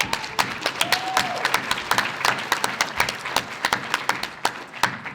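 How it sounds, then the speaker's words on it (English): Attendees at a healthcare summit applaud themselves, sharp individual claps popping out over a full, continuous applause bed, fairly close and lively throughout. "please give yourselves a round of applause for being here"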